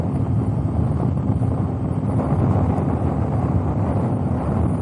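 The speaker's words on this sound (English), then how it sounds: "I prefer to tuck in just to get a little bit less wind off." Steady wind roar buffets the microphone of a motorcycle cruising on a highway, a constant low rumble with no break and no voices.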